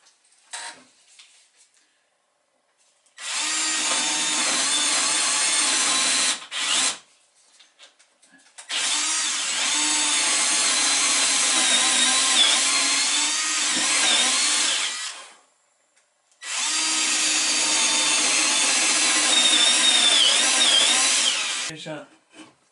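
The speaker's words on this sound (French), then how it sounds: "Donc je commence par faire les trous, avec une mèche de 8 ou 9." A power drill with an 8 or 9 mm bit bores holes in wood for a small toy rowboat, running in three long, loud, steady bursts separated by short pauses.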